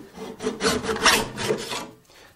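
A file jointing the teeth of a hand saw being re-toothed, running along the steel edge in about five rasping strokes, close and fairly loud, ending in a fainter scrape.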